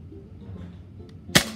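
A single sharp gunshot crack during backyard target practice, loud and close, rising abruptly out of a low rumbling background near the end.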